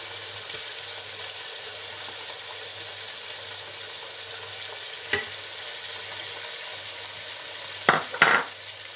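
Garlic with cinnamon and cardamom fries in hot oil in a pan, a steady close sizzle with occasional scrapes and clatter of stirring, louder at the end.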